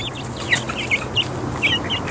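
Blue Jersey Giant chickens cluck in a new pen, several short separate clucks and calls rising over a steady low background hum, fairly close.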